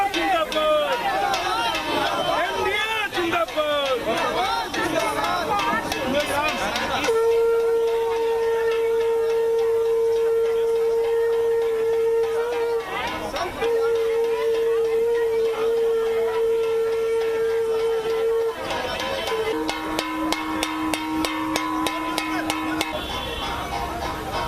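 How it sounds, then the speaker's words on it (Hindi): At an election-result celebration outside a party office, a sustained conch-like tone sounds over a noisy crowd with drumming and bells, while a reporter talks over the din throughout. "ढोल नगाड़े घंटी सारी ध्वनियां आपको सुनाई दे रही होगी"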